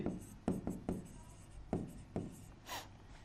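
Marker or chalk strokes on a classroom board during a chemistry lesson, a series of short scratchy bursts at an irregular pace, fairly close and clear.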